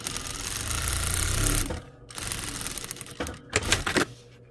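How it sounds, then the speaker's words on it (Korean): Sewing machine stitching the pocket of a padded coat, a loud, fast, close mechanical rattle running steadily, pausing briefly, then restarting in shorter bursts. "임시 고정해 놓은 위치에 맞춰서 완성선까지만 박음질을 해줄 거예요."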